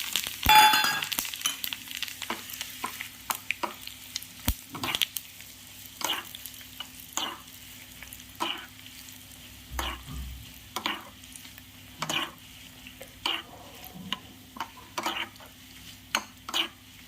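Spices and ingredients for a tadka tempering sizzle steadily in a hot pan, with repeated soft scraping stirs and occasional light clinks of a utensil, no voices.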